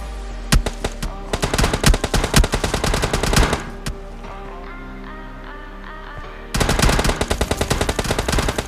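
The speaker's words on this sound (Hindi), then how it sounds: "इसका टीममेट कंटिन्यूसली फायर करता रहता है।" Automatic gunfire in the mobile game PUBG Lite: rapid bursts of loud shots crackle continuously, break off for a few seconds of quieter ringing, then resume in another fast volley.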